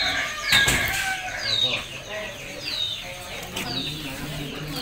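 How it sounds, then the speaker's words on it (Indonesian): Egg-laying chickens, including Elba hens, on a farm: a few clucks and squawks ring out close by, with faint talk in the background. "nanti kita lihat strain-strain ayam saya."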